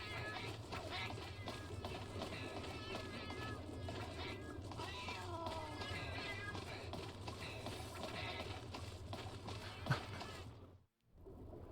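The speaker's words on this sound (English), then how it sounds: "10 million meows" Many cats meowing in the Monster Hunter 3 Ultimate video game, a dense overlapping chorus of meows over a steady low game hum, continuous before a brief drop near the end.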